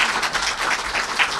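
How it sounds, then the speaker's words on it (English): Clapping from the audience at a Seattle mayor's swearing-in ceremony for a new city department director, a steady dense wash of many hands with no break across the short stretch. "We can clap for him"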